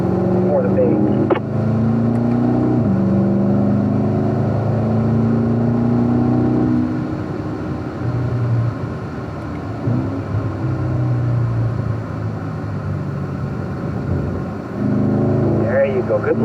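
A car lapping a race track, its engine holding a steady tone that rises and falls through gear changes and corners, heard from inside the car under a coaching voice.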